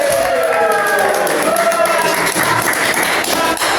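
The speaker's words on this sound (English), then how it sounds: "just clap or easy clap, get that live audience track" A live talk-show studio audience claps as a practice run, a dense, steady burst of hand claps mixed with a few raised voices and whoops, close and loud throughout.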